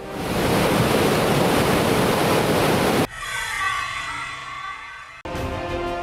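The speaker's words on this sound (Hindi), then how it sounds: "जिसमें पानी की दहाड़ साफ सुनी जा सकती है।" Roaring torrent of floodwater pouring through the opened gates of Hirakud Dam after heavy rain, a loud, dense, continuous rush that cuts abruptly to a quieter, thinner stretch of flowing water, then jumps back up.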